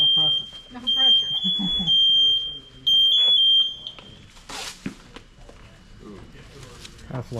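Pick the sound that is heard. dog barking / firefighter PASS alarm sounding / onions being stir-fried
firefighter PASS alarm sounding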